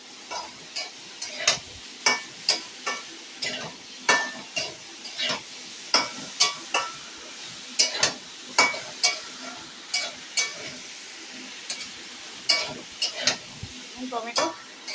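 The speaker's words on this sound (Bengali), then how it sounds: "আলু, কচু, বেগুনগুলো কিন্তু এই মশলার সঙ্গে কষিয়ে নেব।" Pieces of potato, taro and eggplant are sautéed with spices in a pan, a soft sizzle beneath a regular series of loud utensil scrapes and knocks from stirring, close up and with no voice.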